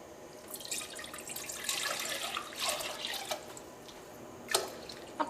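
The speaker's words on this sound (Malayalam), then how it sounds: "പാസ്ത വേവിക്കാൻ നമുക്ക് ആവശ്യത്തിന് വെള്ളം ഒഴിക്കാം" Water poured into a cooking pot to boil pasta, a steady close splashing stream with dripping and trickling, no voices.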